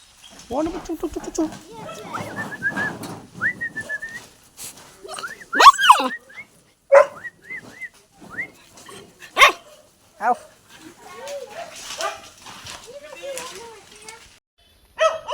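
Several dogs at a dog boarding place near Tavarekere bark and whine in short, irregular outbursts close by, with people talking between and over the barks.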